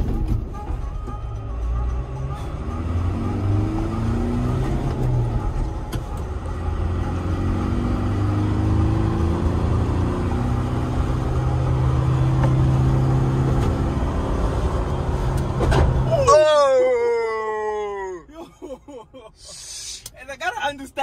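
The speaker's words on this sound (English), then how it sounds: "I'm driving a van." A van drives at speed on a test track, its steady loud road and engine rumble filling the cabin before cutting off near the end, with a voice speaking over it.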